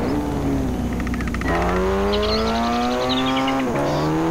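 A car is driven in GTA San Andreas. Its engine hums steadily and then climbs in pitch as it revs and shifts, with a brief chirpy rattle partway through and no voices.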